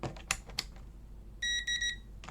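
A multimeter's continuity beep, steady with a bright harmonic tone, sounds in three short bursts over a low background hum while testing a PS4 Slim, with a few faint clicks before it.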